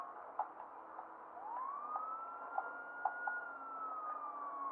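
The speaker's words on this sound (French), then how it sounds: "on va allumer les sirènes" A police siren from the sheriff's SUV in the video game GTA 5 wails steadily in the distance, its tone slowly rising and falling, with faint clicks and thumps over a low hum.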